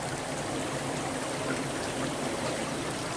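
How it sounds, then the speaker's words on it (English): A small stream flows steadily on an early morning walk in Blair Atholl, Scotland, its broad, even water rush close and continuous with no voices over it. "There's a little stream."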